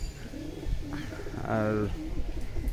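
Pigeons coo on a rainy day, soft rolling coos fairly close by. Someone speaks briefly over the calls.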